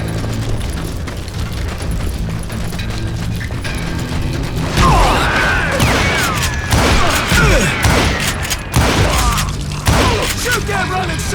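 Gunfire in the Western shooter game Call of Juarez Gunslinger: a loud rapid burst of shots and booming impacts over a constant music and effects bed, with voices in the mix.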